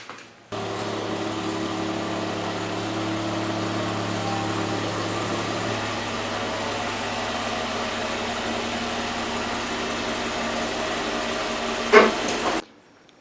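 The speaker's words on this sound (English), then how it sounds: "let me back in the Jeep and we'll see how this works." A Jeep's engine drones steadily and close while the vehicle backs in, a constant even hum with no speech. One brief clunk comes near the end just before it cuts off.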